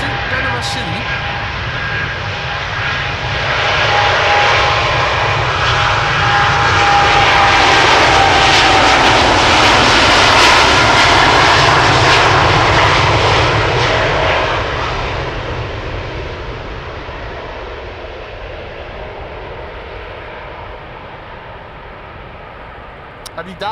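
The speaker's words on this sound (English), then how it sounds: "This is KLM flight 757 in the KLM 100 years livery to Panama City." A KLM jet in the 100 years livery takes off at Amsterdam Schiphol for Panama City, its engine roar building from a rumble to a loud, broad peak midway, then fading as it climbs away.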